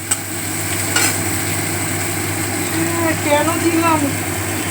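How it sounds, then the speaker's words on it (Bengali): A kitchen chimney exhaust hood runs with a constant loud drone throughout while fish curry cooks below, and a person speaks briefly over it. "চিমনির এত বিচ্ছিরি আওয়াজ না, যেখানে দাঁড়িয়ে থাকা যায় না।"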